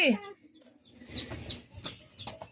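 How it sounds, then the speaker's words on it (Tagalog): A chicken clucks softly in a loose series of short, irregular clucks, fairly faint in a quiet room. "May manok pa sa Maramara."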